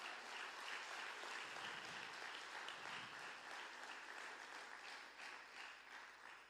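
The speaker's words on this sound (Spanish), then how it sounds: "Dele un fuerte aplauso al Señor" Church congregation applauding at a midweek Spanish-language worship service, a steady, dense wash of clapping that fills the room continuously from start to finish at moderate, even volume.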